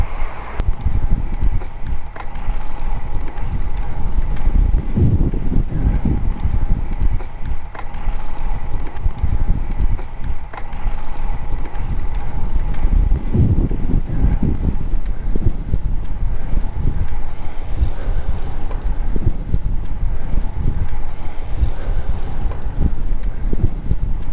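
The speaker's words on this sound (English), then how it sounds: "It is hella windy today." Strong wind buffets the microphone in a constant low roar during cold-weather motorcycle riding, with gusty rumbling surges throughout and no talking.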